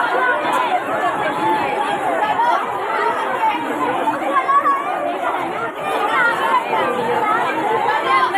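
Dense crowd chatter fills a packed second-class compartment of a Mumbai local train, many voices overlapping in a steady, close babble with no single voice standing out.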